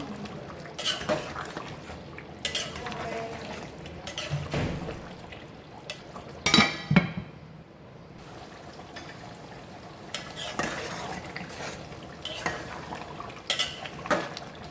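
A spoon clatters and scrapes against a pot as milk powder, cardamom and green chilies are mixed into beef rezala. The scrapes and knocks come close and irregular, with soft liquid stirring between them.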